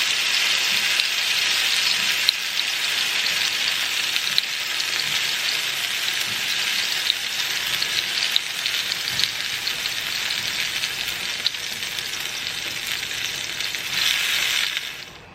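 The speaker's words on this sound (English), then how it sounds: "Just flash fry them for about 45 seconds." Shrimp flash frying in a hot skillet, giving a loud, dense, continuous sizzle that holds steady for the whole stretch and then tapers at the end. No voices.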